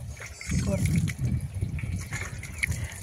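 Water pours and splashes steadily into a tank, a continuous gushing trickle with faint voices in the background.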